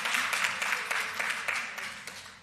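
Audience applause at an education oversight committee press conference, a steady patter of many hands clapping close by for a couple of seconds, without speech.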